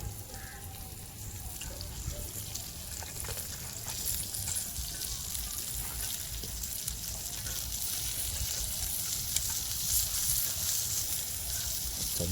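Prawns stir-frying on a hot clay roof tile (kaul) outdoors, a steady soft sizzle with faint scraping throughout.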